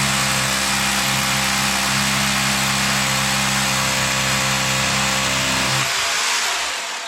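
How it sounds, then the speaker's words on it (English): A power drill drilling into a wall whines steadily and loudly at close range for several seconds, then winds down and stops. "I'm going to go ahead and drill the wall."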